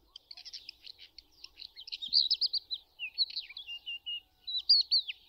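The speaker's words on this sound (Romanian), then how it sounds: "Excelent solist are un cântec lung, bogat, melodios, conținând adesea imitații ale altor păsări" A crested lark, a ground-dwelling lark, sings a long, rich, melodious song of rapid high chirps and trills, clear and near against a silent background with no voices.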